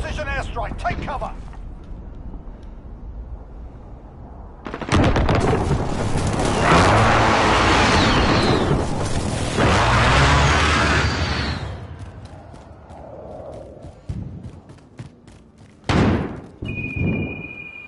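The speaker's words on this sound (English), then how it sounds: "Enemy precision airstrike. Take cover." Precision airstrike in the Call of Duty Modern Warfare video game: after a short quiet stretch, a long roaring blast of explosions and rumbling debris erupts and fades, followed by a few sharp thuds and a brief tone near the end.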